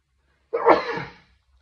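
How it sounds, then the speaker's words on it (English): A single close, sharp sneeze bursting out of silence and trailing off quickly. "Excuse the sneeze there"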